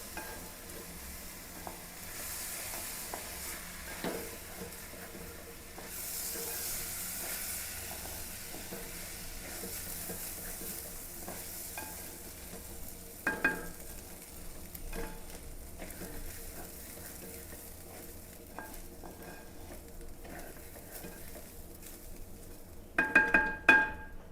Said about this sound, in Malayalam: ഇതൊന്ന് പതുക്കെ ഒന്ന് വറുക്കാം.